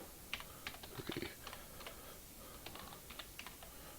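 Quiet, close-miked typing on a computer keyboard during a coding session, with irregular bursts of light key clicks and a small flurry of taps partway through.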